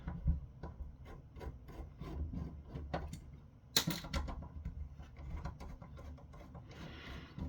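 A Phillips 1 screwdriver turning screws out of a 10Zig thin client case: quiet, close scraping and ticking clicks in a steady rhythm, with a sharper metallic clack midway and a soft rasp at the end.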